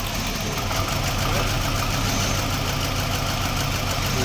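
A Nissan Altima idles with a misfire, its engine holding a steady, close rumble with a faint uneven knock for the whole stretch, and no clear voices over it.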